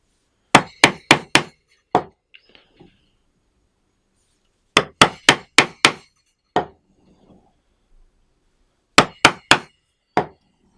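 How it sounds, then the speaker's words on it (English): A chisel struck repeatedly to cut out a mortise in wood for a bow saw, sharp taps in quick clusters of four or five separated by pauses, close and crisp with no talking. "So I've got most of that chiseled out."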